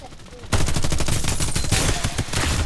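Rapid bursts of automatic gunfire from the battle royale video game Farlight 84, loud and close, starting abruptly after a quiet moment and continuing densely to the end.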